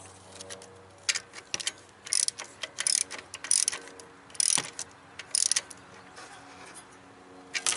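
A ratchet tensions the belt on a Jeep during a water pump job, giving short bursts of rapid, close clicking separated by brief pauses.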